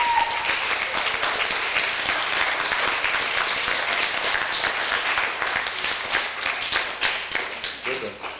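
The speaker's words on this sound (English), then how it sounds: "the council deserves a very big round of applause" Dense audience applause at a Star Trek fan club gathering in Winnipeg, many hands clapping loudly and steadily, then thinning into scattered claps as it fades.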